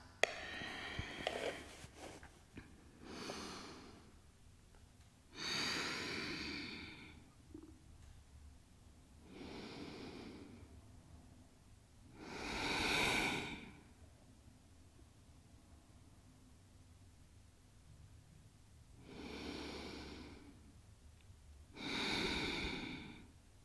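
Slow, deep yoga breathing, long audible inhales and exhales in an even rhythm about every four to five seconds, close and soft against a quiet room.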